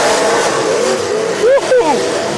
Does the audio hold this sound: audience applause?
no